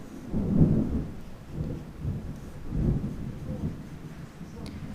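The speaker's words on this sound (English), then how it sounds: "Some ASMR storm for you if you can hear that through the headphones." Rolling thunder from a passing thunderstorm, low deep rumbles swelling and fading in several long waves over steady rain, fairly distant and moderately loud, with no talking.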